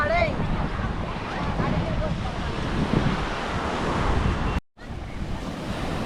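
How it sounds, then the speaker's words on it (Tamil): Steady wind and rolling ocean surf wash over a beach at Besant Nagar near fishing boats, a broad continuous roar with gusty microphone buffeting and a brief dropout near the end. "அப்படியே பீச்சில் உட்காந்துட்டுருக்கோங்க."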